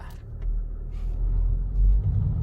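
Low engine rumble of an Audi with over 200,000 km moving at steady speed on a test drive, heard from inside, with a deeper swell toward the end; no voices.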